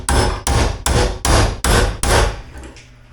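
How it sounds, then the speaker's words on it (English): A hammer strikes a forklift side shift cylinder part, used in place of the proper tool: six loud, evenly spaced metallic blows up close, each ringing briefly before the next, then a faint final tap as it fades. "I don't have the right tool, so I'm just going to hammer it a little bit"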